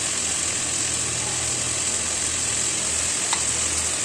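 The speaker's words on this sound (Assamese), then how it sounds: "ফ্ৰাই কৰি আছোঁ" Potatoes, beans and chicken sizzle in a pan over a medium flame while cooking a chicken stew, a steady, even hiss with a low hum beneath it throughout, and no voices.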